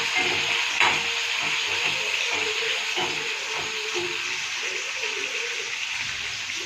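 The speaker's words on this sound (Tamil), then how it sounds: "தக்காளி கொஞ்சம் நல்லா வதங்க." Tomatoes sauté in a pan for mint chutney, a loud continuous sizzle with soft scraping and stirring underneath, steady throughout and without speech.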